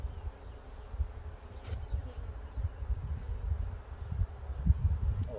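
A swarm of honeybees buzzes close by at a hive as a lid is lowered, a low continuous drone with fluctuating swells and faint rustling, no voices.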